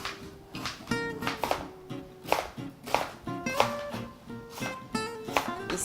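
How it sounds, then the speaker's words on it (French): A knife chops onions on a cutting board in a home kitchen, sharp irregular taps landing about twice a second, close and clear. "On va couper les oignons aussi."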